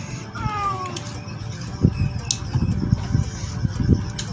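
A cat gives a drawn-out, wavering meow near the start, followed by scattered clicks and knocks over a steady background hum, fairly close.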